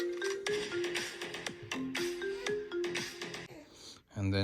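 A downloaded ringtone playing on an iPhone, a bright repeating electronic melody of plucked notes in a steady rhythm, loud and clear, ending with a brief tap.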